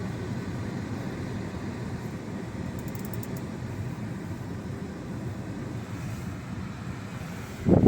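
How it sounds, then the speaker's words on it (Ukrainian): The cabin heater blower of a 2014 Audi A3 runs as a steady, loud rushing whoosh of air that holds evenly throughout, heard from inside the car with no talking. "Далі перевіряємо роботу пічки."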